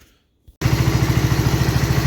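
A John Deere 112H lawn tractor, sat for years and just given fresh engine oil, catches after a near-silent gap and runs loud and close with a steady rhythmic single-cylinder chug.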